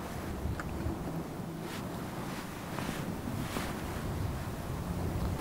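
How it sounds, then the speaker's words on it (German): Steady wind roars across a mountain summit, a constant broadband rush with gusts buffeting the microphone, no voices over it. "es windet"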